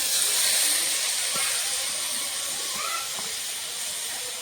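Chopped tomato hits a hot pan among shimmed lentils and vegetables, giving a steady broad sizzling hiss that fades slightly as it settles, close and with no talking.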